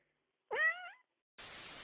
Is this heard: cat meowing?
yes